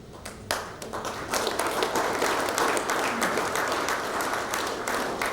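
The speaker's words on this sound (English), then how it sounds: "Ladies and gentlemen, please another round of applause." Another round of audience applause at a small and medium enterprise awards ceremony in Fiji, starting thinner then swelling into full, sustained clapping from a sizeable crowd that holds steady to the end.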